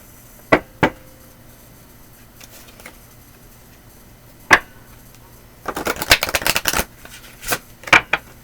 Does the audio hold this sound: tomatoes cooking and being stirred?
no